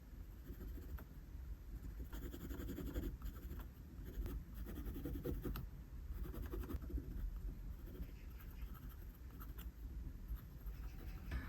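Pencil coloring on paper while drawing a face, shading dark pupils in the eyes: a steady, soft scratchy scribbling that runs continuously and close, with brief pauses between strokes.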